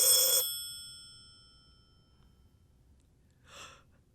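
An old landline telephone bell rings once in a short, bright burst, then falls silent; a faint, brief breath-like sound follows a few seconds later in an otherwise quiet room.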